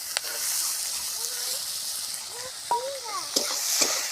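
Chopped onion sizzling in hot oil with cinnamon and cumin for a Bengali muri ghonto, a steady broad hiss with a few scrapes of stirring and faint whistle-like tones near the end.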